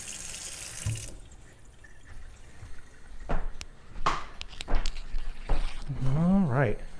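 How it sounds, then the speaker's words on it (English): Cold tap water runs loudly over food being rinsed in a sink for about a second, then stops as a person talks and handles the pieces. "I'm going to rinse this off under cold water"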